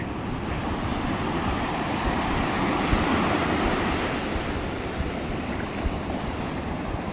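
Steady ocean surf washes and churns continuously, a broad rushing roar of water breaking over rocks on the coast between Carmel and Pacific Grove, fairly close with no voices.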